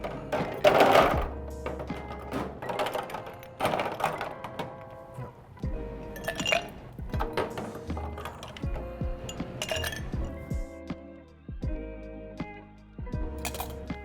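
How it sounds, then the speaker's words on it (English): Ice cubes drop into a serving glass for a tequila cocktail, a scattered run of clinks and knocks in uneven bursts, close and fairly quiet, with no voices. "We're going to fill with ice."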